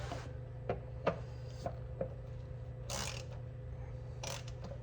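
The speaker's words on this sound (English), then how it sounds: "Switch our ratchet back to on." A ratchet works during an oil change on a 2018 6.7 Cummins, producing a few faint, irregular clicks and ratcheting bursts over a low steady hum.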